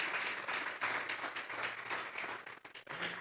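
Church congregation applauding during a Sunday service, a dense steady patter of clapping that dips briefly near the end, with faint voices mixed in.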